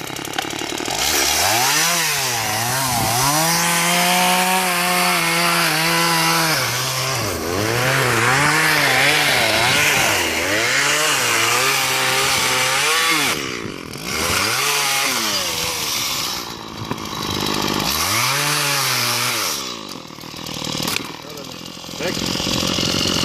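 An angle grinder sharpens a chainsaw, its motor whining and rising and falling in pitch with loud, harsh grinding noise, while voices talk nearby.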